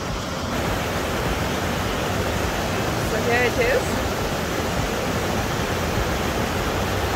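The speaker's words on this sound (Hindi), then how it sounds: "और कुछ ऐसे ही है ये झरना जो मैं आपको दिखाने वाली हूँ" A waterfall in Pahalgam, Kashmir roars as a constant broadband rush of falling water, loud and close, with someone briefly speaking over it.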